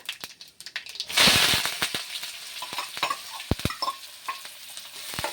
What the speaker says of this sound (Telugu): ఇంకా ఆనియన్స్ ఫ్రై అవ్వాలి